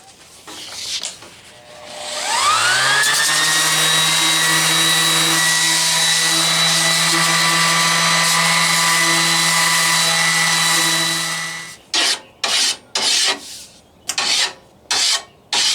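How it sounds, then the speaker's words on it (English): A palm sander fitted with 80 grit sandpaper smooths cut metal edges: the motor spins up, holds a loud, steady whine for about nine seconds, then winds down into several short bursts of sanding. "I'm going to get my palm sander and some 80 grit sandpaper, and I'm going to roll everything over so that there's no sharp knife edges"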